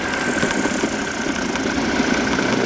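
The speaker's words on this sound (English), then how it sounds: "So closing the engine to idle." Flexwing microlight engine throttled back to idle in flight, a steady low drone with a rough mid-range hum filling the whole stretch, plus a thin tonal whine and constant wind rush.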